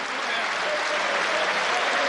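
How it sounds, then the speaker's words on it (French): Crowd at the 2001 world precision shooting championship in Monaco applauds the newly crowned world champion, a dense, steady roar of clapping that fills the whole span without pause. "tout le monde applaudit"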